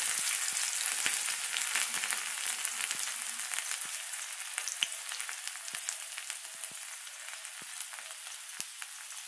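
Chopped ginger and tomato go into whole spices and cumin already frying in a pan, giving a steady, loud, crackling sizzle with scattered sharp pops across the whole stretch.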